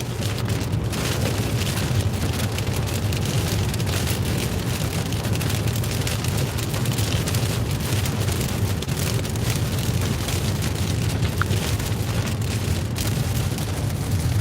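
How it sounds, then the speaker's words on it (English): Heavy rain pouring down steadily with a dense, unbroken hiss and low rumble, loud and constant throughout, with no pauses or talk. "the rain is coming down hard."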